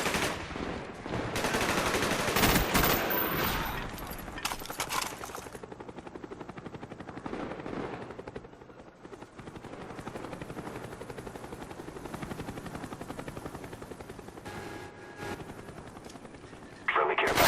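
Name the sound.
Cobra helicopter and gunfire in video game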